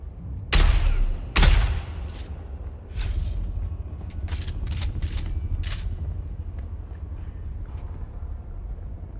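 Gunfire in the online survival game Dune: Awakening, two loud close shots near the start followed by a string of sharper, fainter distant shots over a steady low rumble of ambience.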